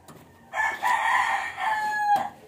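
A rooster crows once nearby, a loud drawn-out call with harmonic tones, followed by a brief cluck.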